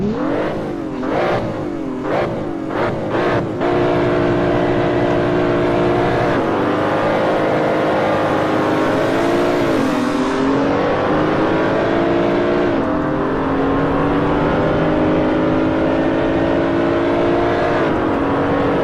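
A BMW Z4 Stage 1 race car in a video game at the Green Hell track, opening with a few sharp revving bursts and then a loud, sustained engine note that rises and falls through gear changes, with no talk.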